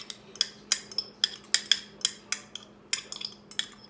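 A fork clinks rhythmically against a bowl while stirring egg yolks into sour cream for cinnamon walnut crescent cookies, giving a steady run of sharp, close metallic taps alone without talk.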